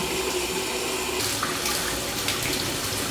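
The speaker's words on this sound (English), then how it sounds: "we're gonna do it in the bathtub and rinse out all the soap and all the water out of this tube" Water runs steadily from a bathtub tap as soapy CPAP tubing is rinsed out, a continuous close splashing hiss that lasts throughout with no speech.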